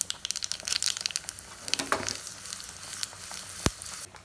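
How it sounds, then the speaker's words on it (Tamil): Mustard seeds, urad dal and dried red chillies crackle and pop in hot oil, a dense run of sharp little bursts over a steady sizzle, with one louder pop near the end. "கடுகு வெடிக்கட்டும். கடுகு வெடிக்கிறது"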